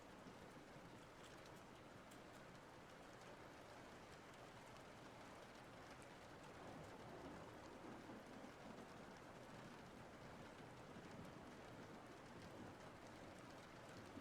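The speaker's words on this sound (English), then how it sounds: "We're just gonna have this moody, rainy stuff." Moody rain ambience, a continuous wash of rainfall with faint patter, steady and quiet throughout with no voices.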